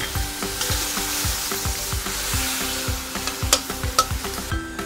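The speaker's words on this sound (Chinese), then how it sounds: "把调好的酱料放进来翻炒，要翻炒均匀，让排骨都吸附到酱汁。" Pork ribs are stir-fried in a wok with a sweet and sour sauce, a loud sizzle under repeated scraping strokes of a spatula and a few sharp clinks near the end.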